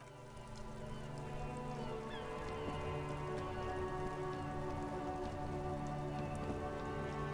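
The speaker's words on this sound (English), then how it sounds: "It's raining again." Steady rain falling in the video game Disco Elysium, a dense, even hiss of drops on surfaces that holds constant throughout, with a faint low ambient drone beneath and no speech.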